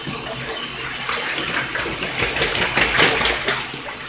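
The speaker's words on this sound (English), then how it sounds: "So Pretty Bird jumped in the tub the minute I started to water." Tap water splashing steadily into a bathtub where a pet bird is bathing, a close, continuous gushing hiss with soft fluttering splashes rising toward the middle.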